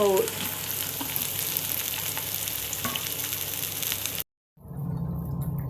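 Crushed garlic, onion and curry leaves hit hot oil in a pan with a loud, continuous sizzle and stirring scrapes, cutting off abruptly near the end before a quieter hiss resumes.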